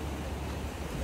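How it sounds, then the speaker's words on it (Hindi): Strong ocean waves surge at Kanyakumari beach, a steady broadband wash of surf and wind filling the short moment without any talk. "देखो लहरें कितनी तेज़ हैं।"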